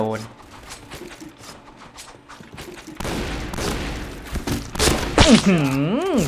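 M1887 lever-action shotgun fire in the online shooter Point Blank, a few sharp booming blasts with mechanical clatter in the second half, mixed with game effects and a rising synthetic whoosh.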